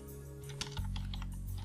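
Quick clicks of fingers typing on a computer keyboard, a short burst of close, crisp keystrokes over a low background hum, with no talking.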